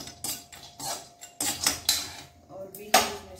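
Sevai vermicelli being stirred in a kadhai, a run of quick metallic scrapes and clinks of spoon on pan in irregular bursts, close and fairly loud.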